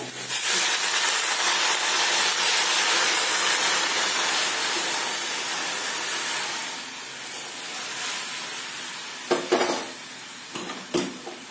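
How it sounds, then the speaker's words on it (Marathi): Boiled water, three times the vermicelli's volume, poured into a pan of reddish roasted vermicelli for sweet sheviyan, giving a loud continuous hiss and sizzle that fades to bubbling, with a few clinks near the end. "आता आपण शेजारी जे पाणी उकळलंय शेवयाच्या 3 पट ते पाणी यामध्ये घालायचं"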